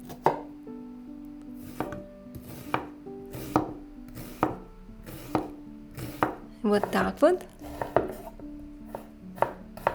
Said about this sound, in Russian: Лук тоже мелко нарезаем.